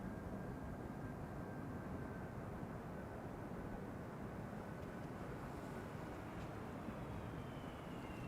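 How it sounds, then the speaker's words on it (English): Delta Airlines Flight 136 from Detroit arriving at Amsterdam Schiphol Airport in crosswind, its engines a faint, steady distant roar with a thin whine, and no voices. "Delta Airlines Flight 136 arriving from Detroit, Michigan, 7 hours and 3 minutes underway."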